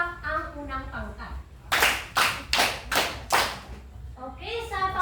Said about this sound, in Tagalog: bigyan natin ng 5 palakpak ang unang pangkat.